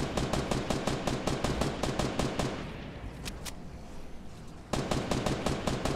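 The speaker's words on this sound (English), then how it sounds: "They're shooting at me." Automatic rifle gunfire in Fortnite Battle Royale: rapid, evenly spaced shots in long bursts, a quieter stretch with a couple of isolated cracks, then another close, loud burst.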